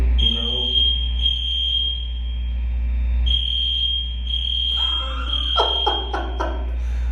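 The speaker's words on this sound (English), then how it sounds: "Well, the fire alarm is going off at the gym." A gym fire alarm sounds in sustained high-pitched beeps with brief gaps, while a voice speaks briefly beneath it toward the end.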